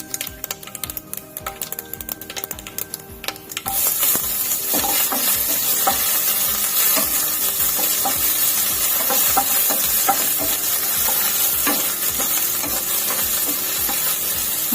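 Sliced onion dropped into hot oil for a matar aloo curry, a sudden loud sizzle bursting in after a few seconds of quieter clattering, then continuous crackling frying with scattered stirring clicks.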